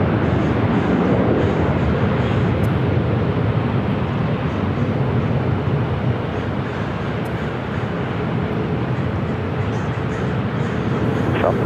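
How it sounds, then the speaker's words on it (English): Southwest airliners take off in a line at Los Angeles LAX airport: a loud, steady jet engine roar fills the air continuously, broad and rumbling, heard from nearby without any talk. "That line of Southwest takeoffs."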